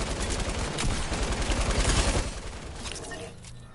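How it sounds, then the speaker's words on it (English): Gunshots in a video game rattle in a dense, rapid, sustained volley that is loud and close at first, then thins and fades over the last second or so. "someone's shooting the thing"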